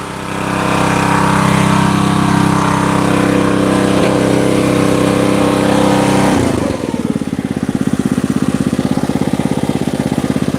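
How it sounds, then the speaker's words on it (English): A grapple machine works over a junk pile, its engine running loud and steady, then dropping to a pulsing idle rumble partway through with no talk. "I gotta scrape all of this up with the grapple"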